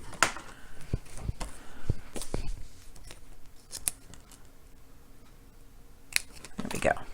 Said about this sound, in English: so let me fix that with my scissors.